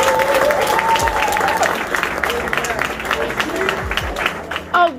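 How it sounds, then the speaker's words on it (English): Church congregation applauding at a back-to-school giveaway event, clapping mixed with cheers and a voice over it, loud at first and then thinning out. "So once again, give yourself a round of applause."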